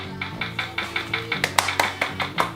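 A rapid, even series of thin, tinny clicks and taps repeats about a dozen times: a cheap electronic clap effect from a handheld soundboard with a dying battery.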